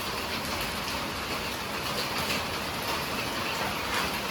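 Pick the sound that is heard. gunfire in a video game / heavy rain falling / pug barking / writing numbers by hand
heavy rain falling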